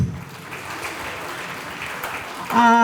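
An audience at a Rotary World Polio Day gathering applauds guests with a continuous wash of clapping at moderate volume, and a voice or tonal sound rises over it at the very end.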